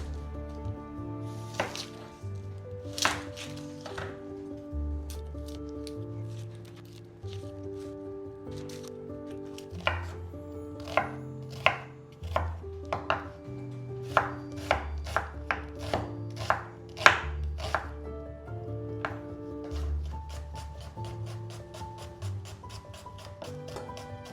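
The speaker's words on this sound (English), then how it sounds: "And then you need to chop up the onion." A knife chops an onion on a board while making a historical bacon and butter dish, with a steady series of crisp, close chopping strikes that quicken into tighter bursts midway, no voices.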